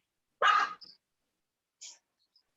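A pet dog barks once sharply indoors, followed by a softer short huff, close but brief in an otherwise quiet room.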